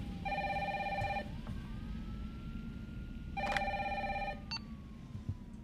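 An electronic phone ring in the video game Resident Evil 3 sounds in two bursts of trilling tones separated by a pause, over a steady low background hum.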